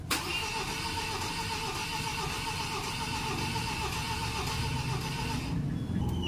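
A 2023 Ford Raptor cranks without starting, the starter churning steadily and loudly for about five and a half seconds before cutting off, with no catch or engine run following.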